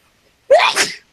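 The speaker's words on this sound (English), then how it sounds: "Excuse me. Sneeze." A single loud, close sneeze from a man, a sharp inhaled onset bursting into a short explosive blast and fading within about half a second, alone in silence.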